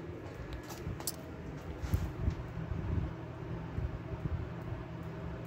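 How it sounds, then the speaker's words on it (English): A Typhoon basement fan runs on low speed, and its motor has developed a humming fault. It gives off a steady, soft, broadband whoosh with a low hum, fairly quiet and continuous, with no talking. "Just stays on low speed because it has a new issue where it's humming."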